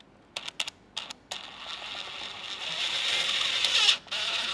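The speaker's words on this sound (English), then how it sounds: "basically the ones that you can get a screw into, you're gonna wanna tap through the carbon like this" A few sharp clicks give way to a steadily building whine as a screw is driven through carbon into a plastic tab, the motor sound rising, stopping briefly, then resuming.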